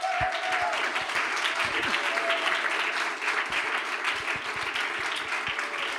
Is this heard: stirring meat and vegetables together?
no